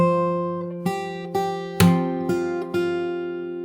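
Fingerstyle acoustic guitar plays a slow arrangement, plucking single notes one by one over ringing strings, with about six distinct attacks, clear and close with no voice.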